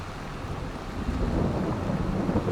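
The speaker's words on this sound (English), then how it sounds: "It's starting to rain." Rain starting in the farming video game Farming Simulator 22, a steady broadband hiss of rainfall that grows slightly louder and fuller over a couple of seconds.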